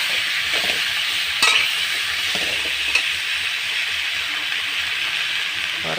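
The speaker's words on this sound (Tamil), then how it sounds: "அவரைக்காய் எடுத்து அந்த தக்காளி வதங்கின இதில் போட்டுருங்க. போட்டுட்டு நல்லா கிளறி விடுங்க" Beans stirred into tomato gravy frying in a pan give a steady close sizzle and hiss, broken by a few faint scraping stirs and small clinks.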